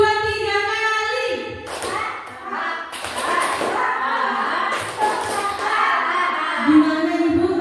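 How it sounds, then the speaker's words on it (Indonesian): People in an Indonesian junior high school teachers' session clap in a one, two, three count pattern. The clustered sharp slaps come in quick bursts, interleaved with voices speaking and calling out. "Tepuk 1, 2, 3 kali."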